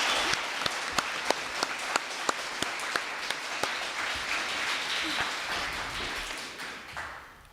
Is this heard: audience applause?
yes